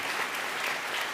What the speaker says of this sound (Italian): Farei anche un bel applauso